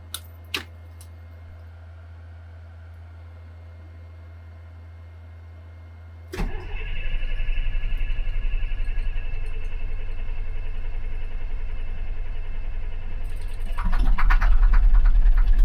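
A DT466E diesel engine in a skoolie cranks over from silence, then catches into a loud, steady run that swells louder near the end.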